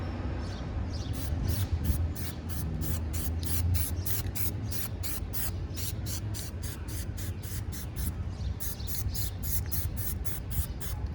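Plasti Dip rubber coating sprays from an aerosol can onto a BMW X5 M Sport emblem outdoors in the wind, a long series of rapid, evenly pulsed hissing bursts over a steady breezy background.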